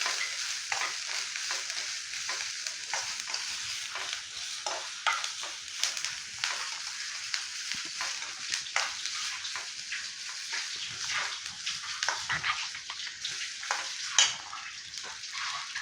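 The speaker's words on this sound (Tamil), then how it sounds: "புதினாவும் நல்லா ஃப்ரை ஆகணும்." Onions and mint leaves fry in a pan for a tomato kurma, giving a dense, constant crackling sizzle with scattered spatters and occasional utensil scrapes, steady throughout with no talking.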